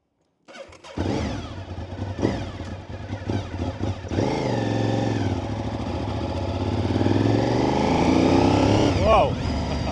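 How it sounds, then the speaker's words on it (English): Honda VTR SP2 V-twin superbike, a 2002 model, starting up: the engine catches and settles into a loud, steady idle that grows slightly, with a voice talking over it. "So let's start it up."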